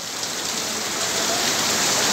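Heavy rain pouring down outdoors on a rainy day, a dense, steady hiss of drops striking surfaces, loud and continuous with no voices.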